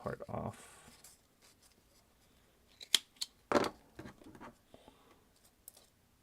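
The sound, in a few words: trimming craft material with scissors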